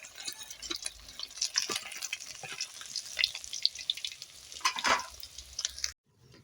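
Pieces of rohu-type fish frying in white oil in a hot kadai, a steady close crackling sizzle with bursts of spattering, ending abruptly in near silence.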